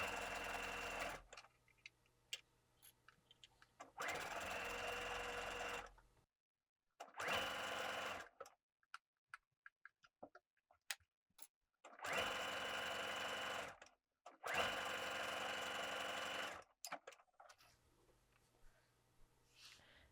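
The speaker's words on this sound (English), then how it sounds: "you'll pull gently as you're sewing the cap so that everything fits into place" A sewing machine stitches the cap sleeve of a copper dress in close, steady bursts of rapid whirring, about five runs separated by pauses with light handling clicks and rustles, and no talk.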